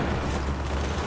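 A grenade in the Battlefield 4 campaign goes off as a loud, sustained low-frequency rumble that fills the whole moment, with no voices over it.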